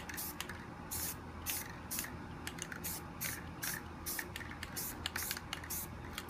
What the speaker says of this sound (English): So we're gonna spray white around it.